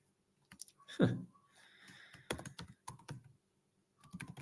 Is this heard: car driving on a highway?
no